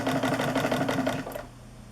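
A manual mechanical sewing machine runs a standard straight stitch with the needle in the center position, a steady rapid mechanical whir with fast rhythmic clatter that stops near the end, close and loud with no talking.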